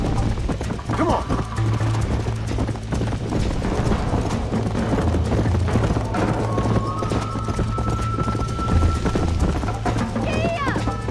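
A horse gallops in the Red Dead Redemption video game, its steady clip-clop hoofbeats running continuously under a constant layer of game sound, with a voice urging it on.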